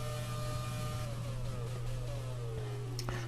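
A classic Schumacher-era Ferrari Formula 1 car races in F1 2020, its engine whining steadily with pitch sweeping between gear changes over a constant low hum, at moderate volume.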